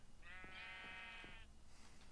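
A single drawn-out sheep bleat from the video game Agrarian Skies 2, faint and wavering for about a second, with soft clicks around it.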